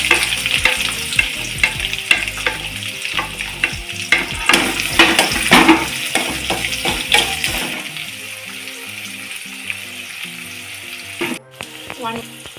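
Onions and chana dal fry in oil, giving a loud, close sizzle with frequent stirring scrapes and clinks against the pan. The sizzle settles into a quieter, steadier hiss near the end.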